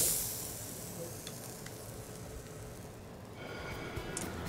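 Steak sizzling on a grill during cooking, a steady broadband hiss with faint crackle that stays even and moderately loud throughout, with no talking.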